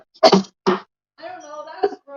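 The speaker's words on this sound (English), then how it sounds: "It was a cough sneeze." A person lets out two sharp explosive bursts of a combined cough and sneeze, close and loud, followed by a short spoken remark in a casual room conversation.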